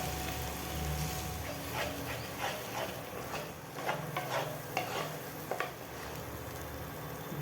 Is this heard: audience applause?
no